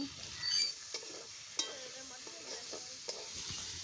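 Jackfruit seeds with chili and ginger fry in a little oil with salt and turmeric, a faint low sizzle punctuated by a few sharp stirring clinks and scrapes.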